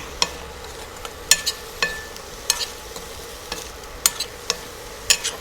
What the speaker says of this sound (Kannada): ಒಂದು ಸ್ವಲ್ಪ ಪನ್ನೀರ್ ಚೆನ್ನಾಗಿ ರೋಸ್ಟ್ ಆದರೆ ಆಗೋಯ್ತು ಅಷ್ಟೇ